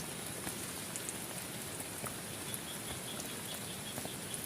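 Heavy rain pours down at a riverside campsite, a dense, steady patter with scattered drips over a constant hiss and no voices.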